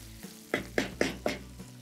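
Whole sambar onions roasting slowly in oil for sundakkai vatha kuzhambu, giving four distinct sizzling bursts about a quarter second apart, close and fairly loud, over a quiet hiss.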